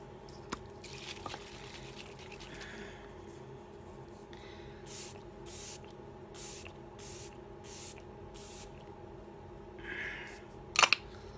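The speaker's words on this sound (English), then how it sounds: "now a little setting spray" A run of short, evenly spaced hissing sprays from a bottle of Tarte setting spray, soft and close, with faint background hum and a couple of clicks.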